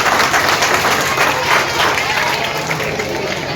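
A crowd at an Independence Day event in India applauds in honour of Rajneesh Tripathi, loud sustained clapping throughout with a dense steady roar, close and unbroken.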